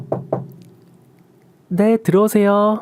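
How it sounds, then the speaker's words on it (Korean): Two sharp knocks on a door, close and distinct, followed after a short pause by a voice answering. "그런데 갑자기 밖에서 노크 소리가 들렸어요."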